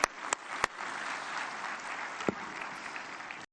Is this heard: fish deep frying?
no